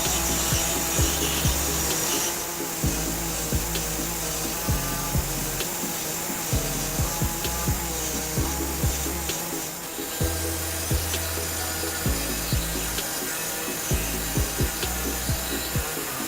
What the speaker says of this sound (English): I'll be using an air saw to enlarge my hole, and basically I'm just going to cut a little notch right in this area here